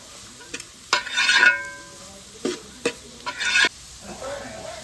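Carrot and capsicum are stirred and sautéed in a pan for vegetable fried rice, with several bursts of sizzling and spatula scraping separated by quieter pauses.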